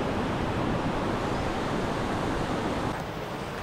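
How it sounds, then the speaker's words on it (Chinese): A river flows past an old mountain town in China, giving a loud, steady rushing wash of water with no voices over it. "河水潺潺流淌"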